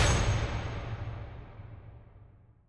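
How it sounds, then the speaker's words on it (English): A riser impact sound effect: one loud, broad hit that opens at full strength and decays slowly over nearly three seconds into a dark, rumbling tail, with nothing else alongside it. "I also added this riser impact sound."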